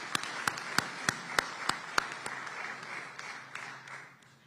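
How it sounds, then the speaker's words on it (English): A small audience claps at a city State of the City address in Oakland, opening with sharp separate claps that settle into light, thin applause and fade out. "I think that deserves a round of applause"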